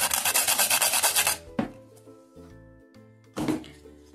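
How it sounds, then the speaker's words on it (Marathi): Nutmeg grated by hand into cooled puran (sweet chana dal filling), giving a close, steady raspy scraping run of strokes for over a second, then a short scrape and a second burst near the end, no talk. "थोडेसे जायफळ किसून घालूया"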